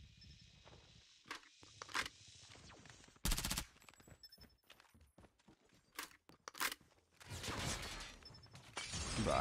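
Gunfire in Call of Duty: Mobile, with sharp bursts and rapid cracks scattered among quieter mechanical clicks and footsteps, some shots loud and close, others fainter.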